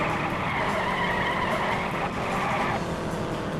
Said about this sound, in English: if I keep sliding the car like that